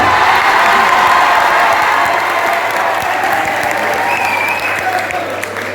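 Loud sustained applause for the teachers at a school cultural day, dense clapping with some cheering and a few shouts, easing slightly toward the end.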